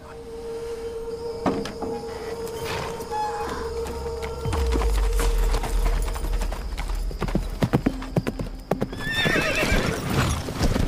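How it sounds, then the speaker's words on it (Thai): A horse out at night, hooves clip-clopping in an uneven stream with a neigh among them, over a low rumbling background; no talk. "การที่ม้าออกไปกลางดึกไม่ใช่แค่ครั้งเดียว"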